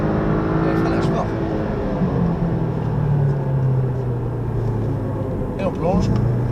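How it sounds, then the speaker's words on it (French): A Porsche 718 Cayman braking hard on the Le Mans circuit, heard from inside: a loud engine drone falling steadily in pitch as the car slows, with a voice talking over it. "Et le freinage fort."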